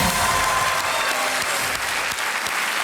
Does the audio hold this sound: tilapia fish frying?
no